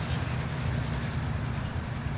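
A train rumbles steadily past in a video game, a continuous low rolling roar with faint clattering wheels throughout, no voices.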